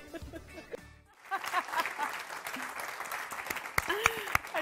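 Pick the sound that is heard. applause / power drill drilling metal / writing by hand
applause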